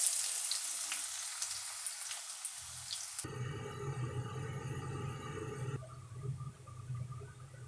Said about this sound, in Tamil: பாவக்காய் பொரிச்சாச்சுங்க